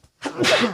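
A single close, sharp sneeze from a person recording a board game podcast, a short loud burst that swells and trails off with no talk around it.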